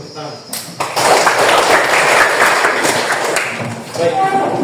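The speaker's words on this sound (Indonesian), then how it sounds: "Tepuk tangan." A classroom group claps together in a short burst of applause, fairly close and loud, then fades as the room settles, with voices around it.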